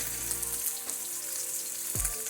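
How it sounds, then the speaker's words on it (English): A ribeye steak sears in a hot pan, giving a loud, constant close-up sizzle with a few brief scrapes, no voices over it. "while it's cooking, it's searing"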